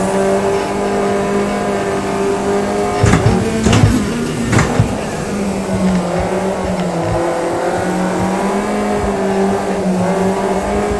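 A race car engine drones at high revs with steady tonal whine, shifting pitch as it accelerates, punctuated by a few short bursts of tire squeal.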